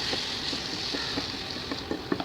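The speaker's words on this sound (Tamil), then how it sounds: "அப்புறம் நறுக்கி வச்சுருக்கிற தக்காளியை போட்டு நல்லா வதக்குங்க" Chopped tomatoes sauté in a pan for Tamil-style egg gravy, a steady close sizzle with a few soft stirring taps toward the end, and no voices.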